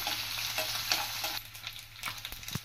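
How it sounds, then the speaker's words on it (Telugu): Small mettallu fish fry in hot oil with a dense, steady sizzle and occasional stirring scrapes, close up with no voices. "దాంట్లో మెత్తళ్ళు కొంచెం వేయించుకోవాలి"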